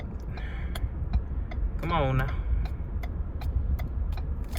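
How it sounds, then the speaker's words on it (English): Steady, regular ticking from the turn signal of a 2020 Ford Fusion SE, heard inside the car over road hum, with a brief spoken phrase partway through. "that kind of blinking like tone"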